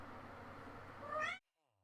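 A house cat lets out a drawn-out, rising meow near the end, following a stretch of voice-like murmur, then everything cuts to silence.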